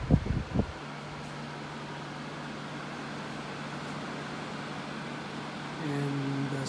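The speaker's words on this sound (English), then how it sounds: "My portable air conditioner is working now." A portable air conditioner running in a living room, a steady low hum with a constant tone and airy whoosh after a few brief knocks at the start, growing slightly louder near the end.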